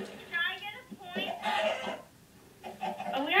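Game chickens cluck in short bursts, mixed with a person's voice chattering over them.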